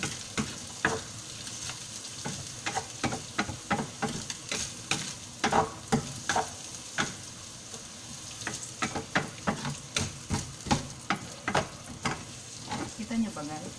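Garlic sautés in a pan for spaghetti, a steady background sizzle broken by repeated sharp scraping strokes of a spatula that come in bursts throughout.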